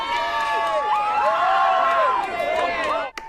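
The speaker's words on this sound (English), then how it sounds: "those were the cheers from an anti-Trump crowd that had gathered outside the courthouse in Lower Manhattan as the verdict was read" An anti-Trump crowd outside the Lower Manhattan courthouse cheers loudly as the verdict is read, with sustained whoops and shouts blending into dense babble before a brief drop near the end.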